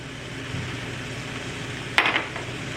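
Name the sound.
green beans frying with powdered spices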